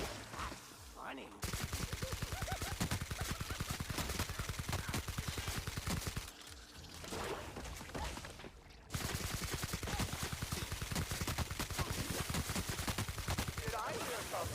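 Rapid automatic gunfire from weapons in the sci-fi shooter Outer Worlds: Spacer's Choice Edition, sustained loud bursts broken by two short pauses, with faint talk beneath.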